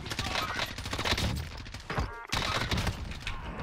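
Rapid gunfire in the Warzone video game: dense, steady bursts of shots that cut out briefly and then resume, loud and close.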